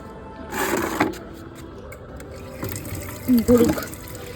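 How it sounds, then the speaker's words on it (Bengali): Water is poured onto plants in a home garden in short splashing bursts, one early and one near the end, with someone talking throughout. "এখন শুধু গাছে জল দেবো"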